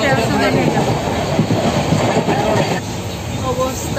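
Inside a moving passenger train travelling from NJP toward Rangapara, loud rumbling wheels on rails keep up a steady clickety-clack with faint squeals, and voices come and go underneath.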